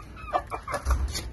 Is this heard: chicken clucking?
yes